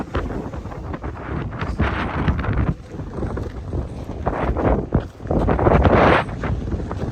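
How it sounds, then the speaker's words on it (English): Strong wind buffets the microphone in heavy, continuous gusts, rumbling and roaring throughout with brief lulls. "Very windy, very windy."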